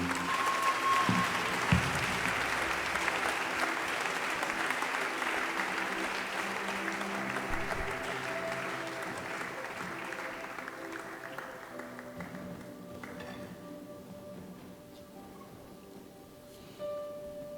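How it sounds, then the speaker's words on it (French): A church congregation applauds in a large hall, sustained dense clapping that slowly thins and fades over the span, with faint voices underneath near the end. "Nous acclamons Jésus"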